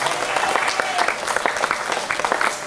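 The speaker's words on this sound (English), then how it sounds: "would everyone please give these individuals a round of applause" A round of applause rises from the crowd at a county fair meat goat show, a steady, fairly loud patter of many hands clapping for the whole stretch, with no speech over it.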